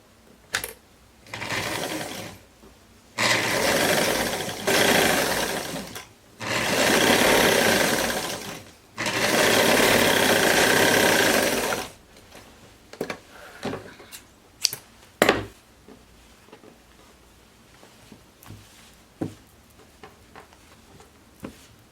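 Sewing machine stitching fabric for a jumpsuit with pockets: four loud, close bursts of steady mechanical whirring separated by short pauses, followed by scattered clicks and handling sounds.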